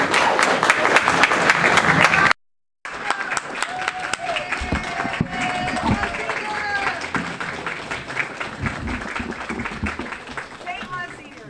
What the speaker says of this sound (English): please give a warm round of applause and a St. Gerard's welcome to Msgr. Phillip